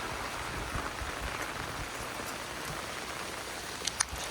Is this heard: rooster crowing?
no